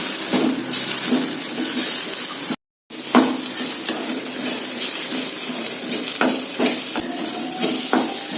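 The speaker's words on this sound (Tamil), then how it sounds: "தேங்காய் அரைச்சது இதில் போட்டுடலாம் நல்லா பரட்டி விட்டுடலாம்" A spoon stirs ground coconut into a snake gourd stir-fry in a hot pan, steady scraping and sizzling close up throughout, with one brief silent gap.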